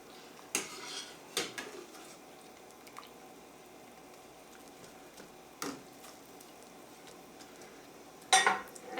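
Tomatoes scooped from water with a metal spider strainer into a bowl, heard as a few soft clinks, wet squishes and drips, spaced out with quiet gaps and a final clatter near the end.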